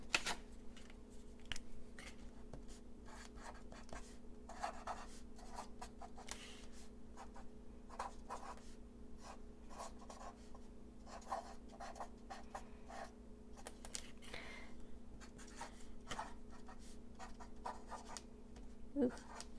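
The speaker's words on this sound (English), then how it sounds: "We're going to take our scissors and we are going to cut right on that 5-inch line" Quiet, intermittent snips and scratchy rustles of scissors cutting through paper, coming in short irregular bursts over a steady low hum.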